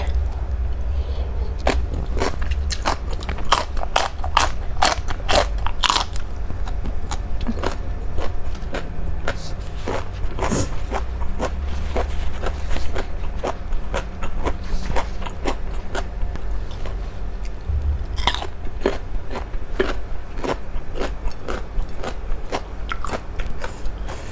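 Close, crunchy biting and chewing of fresh vegetables, including bitter gourd, eaten with Thai papaya salad dressed with crab sauce, repeated crisp bites in a steady rhythm throughout, loud and near with no talk.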